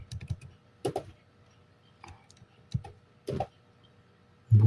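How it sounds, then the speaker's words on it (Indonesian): Short, separate bursts of typing on a computer keyboard, with quick clusters of key clicks and pauses between them, ending in a louder thump. "ketik lagi"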